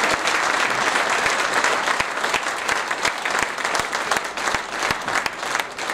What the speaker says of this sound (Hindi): इनके सम्मान में जोरदार तालियां होनी चाहिए